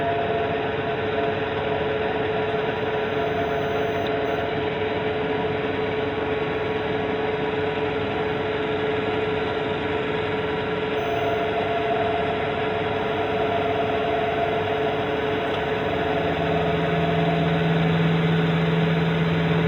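A K&T 2D rotary head mill turning its head at 1 RPM to cut a roundover, a steady droning hum and whine that runs on evenly, with a higher tone rising near the end and no talking.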